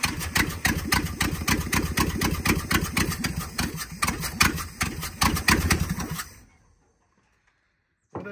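A rough, loud 1970 Dodge D300 wrecker truck engine, missing one exhaust manifold header, runs with a choppy, uneven exhaust pulse for about six seconds, then cuts off into silence.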